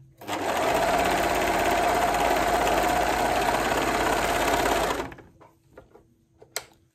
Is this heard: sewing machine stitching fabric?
yes